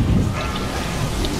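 Lightning and thunder attack during the heroic Dragon Soul fight against Hagara the Stormbinder in World of Warcraft, a loud, continuous rumbling thunderstorm roar with rain-like hiss, with no talking.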